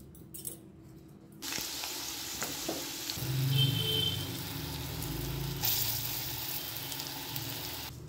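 Turmeric and nigella seeds drop into hot oil and sizzle with a sudden steady hiss that builds and fills the pan, close and moderately loud, with faint clinks and no talking.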